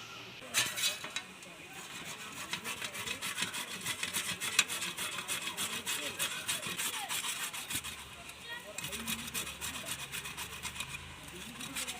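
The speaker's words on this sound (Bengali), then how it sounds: "এবার আমি গ্রেটারের সাহায্যে গ্রেট করে নেব।" A boiled potato grated by hand on a grater, a continuous rhythmic rasping scrape of close, quiet strokes, with a soft voice talking in the background.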